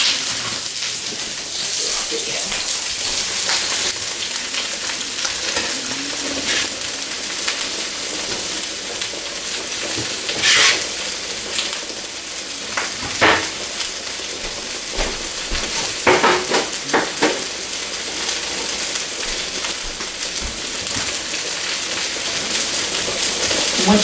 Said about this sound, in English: I usually put the broccoli in first because that takes a little bit longer to cook up